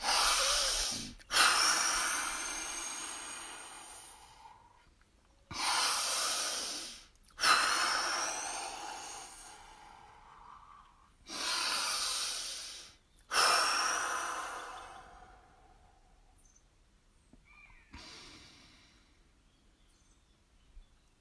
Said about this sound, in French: On refait 3 très grandes respirations pour terminer.